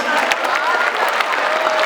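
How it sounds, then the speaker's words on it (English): An audience at a school No Tobacco Day and Labor Day program breaks into steady, dense applause, a crowd of hands clapping continuously at moderate distance, with faint cheering. "Don't they deserve a round of applause"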